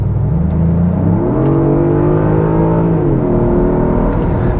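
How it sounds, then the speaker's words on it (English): A Genesis GV80 Coupe engine pulls hard under acceleration, its note rising in pitch through a gear, easing briefly, then climbing again, loud and steady from inside the cabin with no talk. "It just pulls so quickly and fast, this motor. It doesn't want to quit, and it's got a beautiful engine note when she's roaring on."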